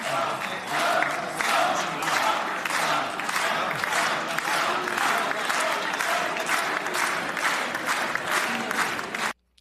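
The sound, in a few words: crowd in the Knesset chanting and applauding for President Trump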